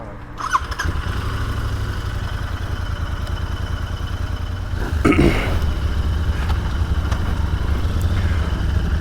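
A 2023 Royal Enfield Continental GT 650 motorcycle fires up and idles on a slope. A close, low, steady rumble holds throughout, with a brief louder blip around the middle.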